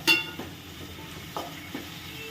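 Tomatoes and onions fry for a Telangana-style chicken gravy curry, with a faint sizzle under a few light scrapes and taps of a spoon stirring the pan. The sounds are quiet and close, with no talking.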